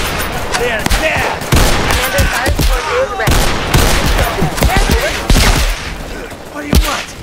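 Dense video-game gunfire in bursts of automatic and single shots crackles loudly and continuously, mixed with thuds and distant blasts, while players shout over it.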